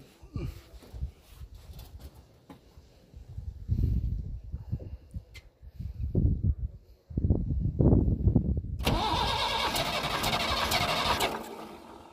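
A JCB 210 excavator diesel engine cranks and struggles, sputtering in uneven bursts before catching into a loud steady run, heard close by with a voice speaking near the start.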